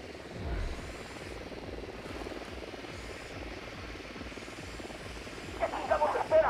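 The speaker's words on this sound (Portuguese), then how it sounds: "Enviar o drone." Drone in Ghost Recon Wildlands, a steady buzzing propeller hum droning continuously at moderate distance, with a few louder bumps and clatters near the end.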